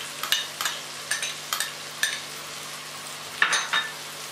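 Spoon stirring ginger-garlic paste with tomato frying in a pan, soft sizzling broken by about eight sharp scraping strokes at uneven intervals, close and alone.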